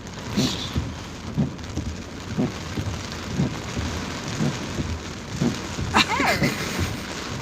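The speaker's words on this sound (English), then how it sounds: "how does the rain just come down like that?" Heavy rain pours down steadily during a road trip, a loud dense hiss with rhythmic thumps from wipers or drops hitting the car, and faint voices in the background.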